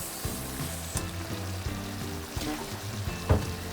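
Thai fish sauce (patis) splashed into chicken caldereta frying in a pan, raising a steady close sizzle with a brief sharper hiss near the end, while a voice murmurs low underneath.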